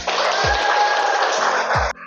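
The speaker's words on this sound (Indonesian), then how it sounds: "beri tepuk tangan dulu" A classroom of high school students claps together in a short, loud burst of applause, dense and continuous for about two seconds before stopping abruptly, with a couple of low thumps underneath.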